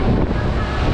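Strong cold wind blowing outdoors on a tram ride through a space center's rocket park, a loud continuous rumbling buffet against the microphone for about a second.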